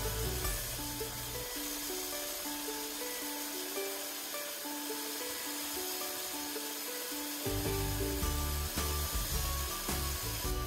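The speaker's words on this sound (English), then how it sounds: "Another round of compound and backlapping will help polish off and finalize the reel to bed knife" A McLane reel mower is backlapped with compound, the spinning reel grinding against the bed knife in a continuous whirring, scraping drone with a ringing tonal hum that grows louder and heavier partway through, with no voices.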